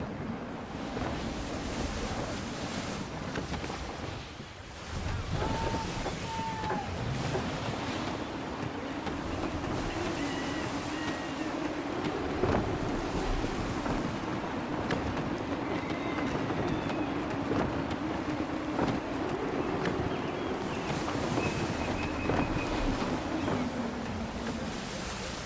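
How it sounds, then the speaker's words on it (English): A sailing ship moves through gusty wind in Assassin's Creed 3, with a steady wash of wind and water rumbling on throughout, broad and continuous, rising and falling slightly. "Wind looks to be shifting. Stay alert, Connor. Gusty winds can be difficult to manage."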